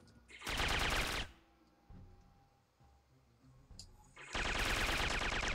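Automatic gunfire in the video game Syphon Filter 3: a loud, rapid burst, a quieter stretch with faint in-game noises, then a second sustained burst that runs to the end.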